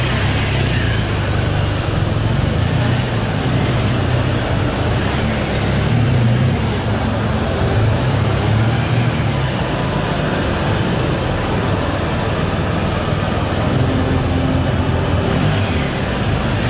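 BMW GS adventure motorcycle pulling away on a hill, engine noise mixed with road and wind rumble, steady and continuous at moderate loudness with no clear peaks.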